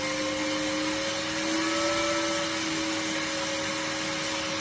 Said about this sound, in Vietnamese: Các bạn nghe tiếng quạt nó tăng không?